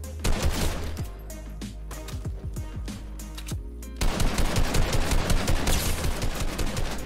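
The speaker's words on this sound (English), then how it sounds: "Oh my gosh, that guy almost hit me with his shotgun" Rapid bursts of shotgun and automatic gunfire in the video game Fortnite, loud and close, with a short lull and then a denser, louder stretch of repeated shots.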